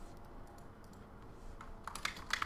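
Typing on a computer keyboard at a desk during game development, faint scattered key clicks that grow quicker and louder toward the end, heard alone without talk.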